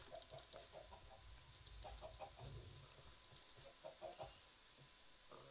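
Clucking chickens in Minecraft, faint, short bursts of clipped clucks in irregular clusters over a soft hissy background.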